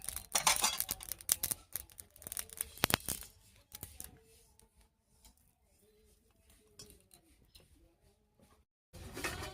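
Spices being ground by hand on a Bengali shil nora grinding stone, producing a cluster of loud, irregular scraping strokes at first that thin out into fainter rubbing while a voice talks over it.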